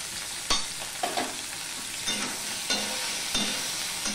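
Vegetables with turmeric and salt frying in a pan, a constant sizzle broken by about six sharp scraping stirs at fairly regular intervals, close and moderately loud, with no voices.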